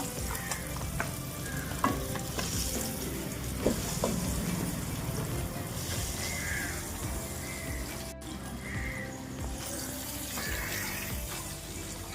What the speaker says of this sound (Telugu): బాగా ఫ్రై చేసుకుందండి బాగా ఫ్రై చేసుకుని చూసుకున్నామండి గుడ్లు ఫ్రై అయిపోయినాయి కదండి